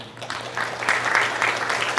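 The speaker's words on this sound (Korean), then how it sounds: "박수를 격려합니다" A church congregation claps for the worship praise team during a Sunday service, a brief burst of mid-level applause building quickly and holding steady against a low hum.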